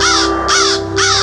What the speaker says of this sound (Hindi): काँव काँव चिल्लाता कौवा,